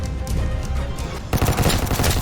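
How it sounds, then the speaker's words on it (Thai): Gunfire in the Roblox War Tycoon video game, rapid shots crackling throughout and swelling into a louder, denser burst of automatic fire partway through. "ผมยิงมันโดนนะ"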